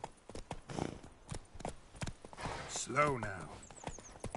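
Roach, the horse in the video game The Witcher 3, clip-clops along in a steady walking rhythm of close hoofbeats, with a brief whinny partway through and someone speaking briefly over it.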